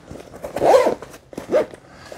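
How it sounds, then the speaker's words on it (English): A zipper on a magnetic bottle bag gets zipped shut in two quick pulls, close and crisp, with a short pause between them and no talking. "now let's zip it up"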